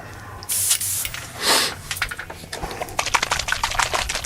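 An airbrush gives two short, close hissing bursts of white paint for painting Star Wars Legion stormtrooper miniatures, followed by a run of light rattling clicks.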